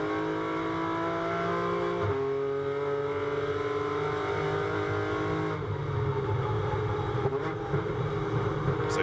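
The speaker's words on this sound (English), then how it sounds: "So Tom Edgar hustles the BMW into the stadium." A BMW GT4 race car during qualifying at Hockenheim, a loud steady engine drone that climbs in pitch, drops at a gearchange around two seconds and holds on, with other race machinery blended in the background.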